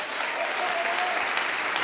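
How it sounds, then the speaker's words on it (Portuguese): A church congregation applauds in a dense, loud wash of clapping that stays steady for the short stretch. "vamos aplaudir, igreja"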